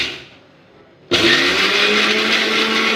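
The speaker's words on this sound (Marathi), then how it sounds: "हे मिक्सरमधून छान बारीक करून घेते" A kitchen mixer grinder blends spinach, coriander, garlic and other ingredients into a fine paste, starting abruptly after a quiet moment and then whirring loud and steady close by.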